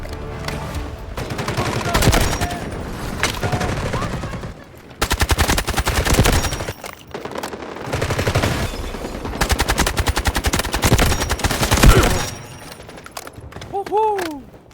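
Gunfire and blasts fill a Delta Force video game battle, with rapid automatic bursts separated by short lulls and a dense, loud crackle of shots throughout.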